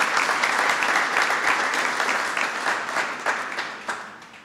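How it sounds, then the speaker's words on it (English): Vigorous audience applause at a Cinco de Mayo reception hosted by the Vice President, loud sustained clapping from a crowd that gradually thins and tapers toward the end. "Would you all join me in giving a vigorous round of applause to the new Secretary of Labor"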